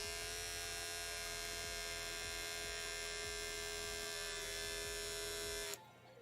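An electric razor switched on with its blades running, giving a steady loud buzzing hum with a rattling low pulse that continues unbroken for nearly six seconds, then abruptly cuts off at the very end.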